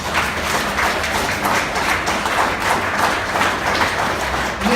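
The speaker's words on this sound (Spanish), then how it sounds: "¿Alguien le puede dar palmas al Señor?" Church congregation clapping hands, a dense sustained round of rhythmic applause from many people close by, loud and continuous without voices.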